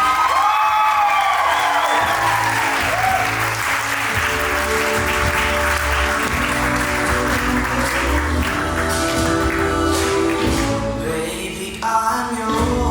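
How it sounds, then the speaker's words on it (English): Wedding guests break into a loud, sustained round of applause with cheers and whoops at the couple's first dance, while music plays underneath and the crowd noise fades slightly toward the end. "How about a round of applause?"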